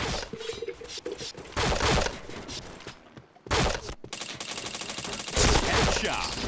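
Rapid bursts of video game gunfire from the shooter Point Blank, dense volleys broken by a short silent gap, loud and close, with a voice talking over parts of it.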